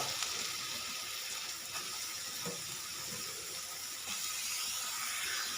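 Chopped bottle gourd tipped into sizzling fried masala in a pan for a fish-head lau ghonto, giving a steady loud hiss and sizzle throughout with a brief clatter as it goes in; no talking.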